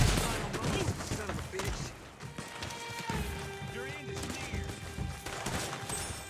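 Sniper gunfire in the online Western shooter Red Dead Online cracks out in several sharp shots amid busy game noise, with horse hooves and scattered ambient effects filling the gaps between reports.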